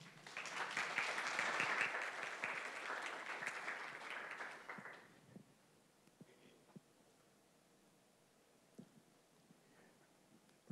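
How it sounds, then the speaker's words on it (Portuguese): Lecture-hall audience applauds a physics professor at a congress, a broad wash of clapping for about five seconds that fades to scattered claps and near quiet. "Uma salva de palmas, por favor."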